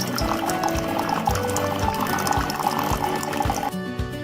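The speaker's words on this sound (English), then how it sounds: "You can see water's coming out to clean out the tubing and all the little parts in there." A Keurig K575 single-serve coffee maker runs water through its tubing into a 12-ounce mug, a steady close pour and fill with gurgling and a low rhythmic pump pulse before the flow cuts off near the end.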